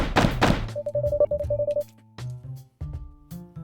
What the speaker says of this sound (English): there was suddenly a loud bang on our door